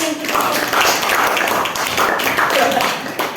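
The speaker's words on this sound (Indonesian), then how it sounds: "Ya, tepuk tangan teman-teman." Classmates clap together in a classroom during a mathematics lesson presentation, a dense patter of hands that holds steady for a few seconds, with voices mixed in.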